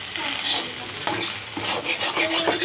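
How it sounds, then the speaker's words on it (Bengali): Sliced potato, bitter gourd and two green chillies fry in oil with only salt-free plain oil, a loud steady sizzle with stirring scrapes close by, no voices. "শুধু ভেজে নেওয়া হচ্ছে তেলে।"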